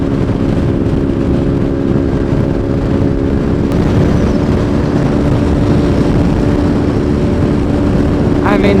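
A BMW R nineT motorcycle engine runs steadily while riding, a smooth continuous low drone mixed with wind rush and a faint voice over it.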